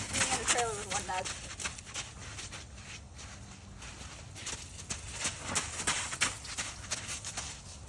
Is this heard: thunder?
no